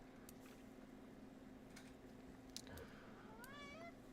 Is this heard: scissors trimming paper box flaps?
no